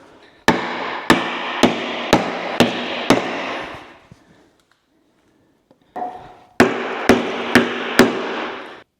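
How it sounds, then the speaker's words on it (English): Sharp hammer blows strike a block of wood to press a front wheel bearing into a 1960 Chevrolet Apache truck, in an even rhythm, five in a row, a pause, then four more, each with a short ringing tail. "I will get a block of wood and then a hammer"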